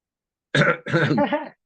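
A person clears their throat in two or three rough, gravelly bursts, close and fairly loud, with silence before.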